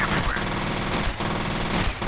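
Rapid automatic gunfire in the video game F.E.A.R., a dense, continuous burst of shots loud and close throughout, with brief gaps between volleys.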